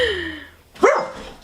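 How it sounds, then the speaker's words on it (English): A dog indoors, asleep, gives a single short sharp bark after a faint whining tone, close by and fairly loud. "What the fuck is he barking at?"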